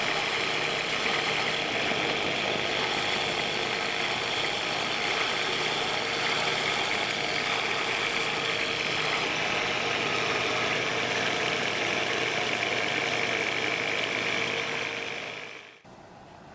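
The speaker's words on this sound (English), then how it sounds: "So now on my big wide belt sander, I'm just going to clean up all the edges." A large wide belt sander rounding over and cleaning up the edges of a homemade metal tool rest for a mini lathe, giving a steady loud grinding roar that holds for about fifteen seconds before cutting off at the end.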